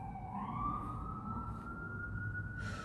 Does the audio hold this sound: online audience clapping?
no